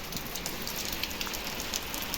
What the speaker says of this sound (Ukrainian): Чуєте, як по криші тарабанить.